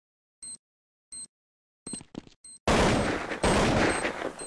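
Bursts of video game gunfire in a 2003 multiplayer shooter match: two short isolated shots, a ragged cluster of rounds, then a loud sustained fusillade of close automatic fire.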